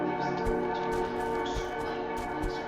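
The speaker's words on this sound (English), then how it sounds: "So there's that bell you hear" A bell rings repeatedly within a dense, droning ambience in the horror game Betrayer, its strikes spaced roughly every half second to second and fairly loud against the steady background tones.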